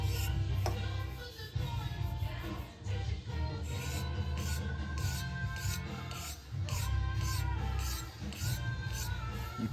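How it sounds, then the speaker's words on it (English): High spots on a finish are scraped and wet-sanded with 1500 grit sandpaper, producing a continuous close rasping rub in back-and-forth strokes with a few brief breaks. "scraping down those high spots in preparation for some 1500 grit wet and sandpaper"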